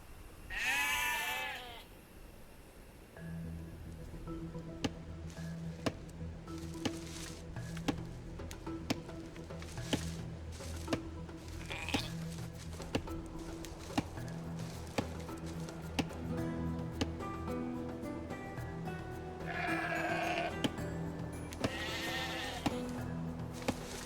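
Sheep bleating in the Age of Empires 2 Definitive Edition strategy game, several clear bleats at the start and again near the end, over a steady game soundtrack with regular soft ticking clicks.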